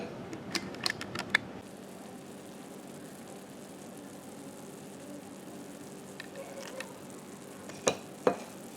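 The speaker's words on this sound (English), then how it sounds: "this has been simmering for about 10 minutes or so" Peppers simmering in syrup in a pot, a faint, steady low bubbling hiss with a few sharp clicks and taps from utensils near the start and end.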